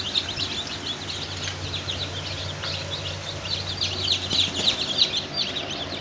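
Newly hatched Australorp chicks peep continuously in a dense, high-pitched chorus from a large egg incubator, close by over a low steady mechanical hum, with no voices.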